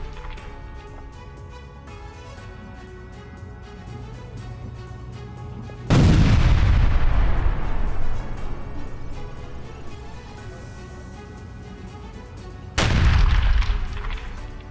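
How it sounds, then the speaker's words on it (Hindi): Two rocket explosions at a sports ground in Belgorod, each a sudden loud boom with a long rumbling decay, about seven seconds apart, heard over a faint musical background. "बेलगोरोड में खेल मैदान पर जा गिरा यूक्रेन का रॉकेट"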